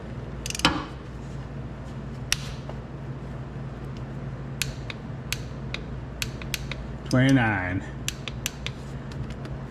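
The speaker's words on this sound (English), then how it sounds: "Now we're going to torque this down to 29 foot-pounds" A torque wrench tightens a bushing to 29 foot-pounds during an ECGS bushing install. It gives a few sharp, near metallic clicks and ratcheting ticks spread over a low mechanical hum, with one longer creaking, grinding squeal.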